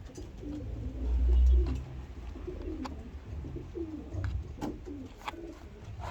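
Racing pigeons coo softly and repeatedly while being handled for vaccination, low rhythmic calls close by over a few handling bumps and rustles.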